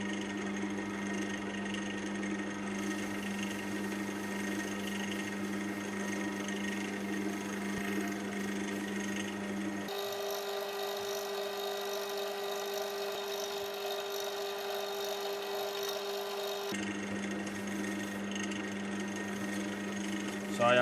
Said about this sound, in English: I'm going to run the lathe for a minute or so just to let it soak in